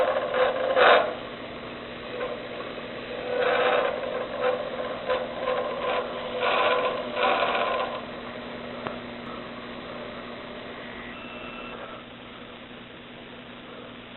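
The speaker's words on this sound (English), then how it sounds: "I'm going to, with my bowl gouge, just to smooth it out a little bit" A bowl gouge cuts a wooden offset bat spinning on a lathe, giving soft, scraping, rasping passes with a few louder bursts early on. The cutting fades into a steady low machine hum.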